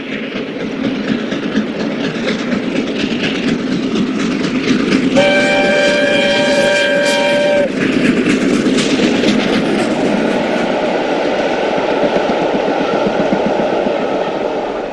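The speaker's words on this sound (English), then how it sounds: "Union of South Africa at Durham in April 2009 during its one-way trip from Edinburgh to King's Cross" LNER A4 steam locomotive Union of South Africa passes Durham on a charter run, its sustained multi-tone chime whistle sounding loudly for a few seconds over the steady roar of exhaust and rolling wheels.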